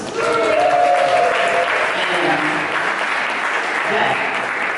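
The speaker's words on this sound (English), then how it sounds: "Can you give a round of applause for Sarah and Alex, please?" Steady crowd applause at a performing arts showcase for Sarah and Alex, a dense, even wash of clapping filling the room from start to finish, with faint voices mixed in.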